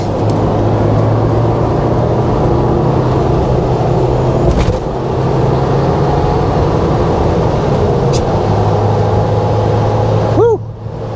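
Ford Bronco with a 7-speed manual accelerating hard up a short highway on-ramp, steady loud engine and road drone throughout with a brief gear-change dip midway, a faint voice near the end.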